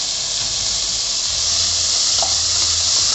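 Tomatoes fry in a pan for chicken keema biryani, giving a steady, close sizzle and hiss with no talk over it.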